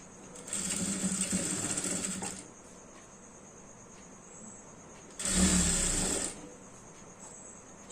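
Sewing machine stitching the shoulder seams of a long frock, two bursts of close whirring, the first about two seconds and the second about a second, with quiet pauses between.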